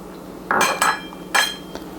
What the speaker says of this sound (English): whisk for a couple of seconds